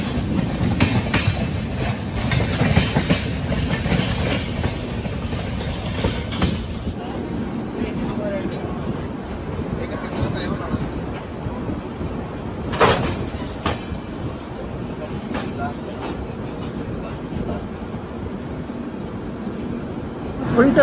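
Passenger train interior on a long-distance Kolkata to Kashmir journey, with a continuous low rumble, rhythmic clattering and scattered sharp clicks and knocks throughout, close and fairly loud, with faint murmuring voices in the background.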